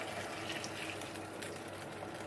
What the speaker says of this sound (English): and then I pour in